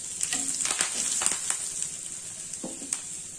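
Curry leaves crackling in hot oil with mustard seeds, turmeric and chili powder for an ivy gourd stir-fry, a steady bright sizzle broken by several sharp pops and spits, close and moderately loud.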